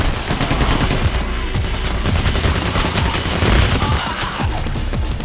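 Rapid, loud gunfire rattles through a firefight in the heist shooter Payday, with dense bursts of automatic shots and booms layered continuously.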